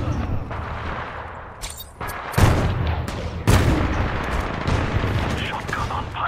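Titan in Titanfall auto-firing its weapons at infantry, dense bursts of gunfire and booming impacts that jump louder twice, with a game voice speaking over the shooting.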